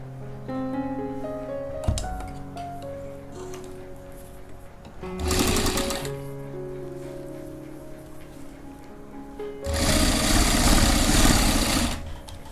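A sewing machine stitches a jacket strip in two steady bursts, a short one and then a longer one, over a background of lingering music tones.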